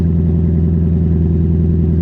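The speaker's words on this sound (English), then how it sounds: "I'm very happy with the straight pipe with the resonator exhaust." A Toyota Tundra with a straight pipe exhaust and resonator idles with a steady, deep, low rumble, constant and close with no revving.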